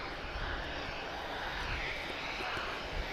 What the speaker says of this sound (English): This is Air Europa, uniform X-ray 1156. He's flying to Madrid, 737-800.